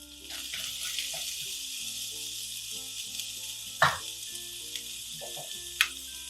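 Onion and garlic sizzle in plenty of olive oil in a pan, a steady bright crackle with a few clinks of a utensil, close and continuous.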